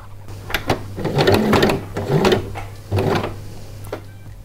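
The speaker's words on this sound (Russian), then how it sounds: "В начале строчки помогаем оттянутыми нитями назад. Прокладываем первую пару стежков" A sewing machine runs a zigzag stitch on women's underfabric, whirring in several short bursts of rapid mechanical clatter with brief pauses between them, close and clear.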